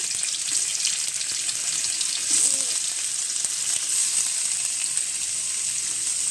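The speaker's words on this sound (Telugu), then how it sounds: "ఫస్ట్ అయితే ఆయిల్ వేసుకున్నాము కళాయి ఎలా ఉంటుంది ఏంటి అని అనొద్దు" Cut paneer pieces fry in oil in a kadai with a loud, continuous close sizzle and fine crackling that swells briefly midway, with no voices.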